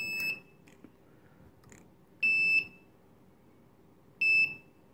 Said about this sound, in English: when I bring this magnetic field source close to read switch, buzzer will start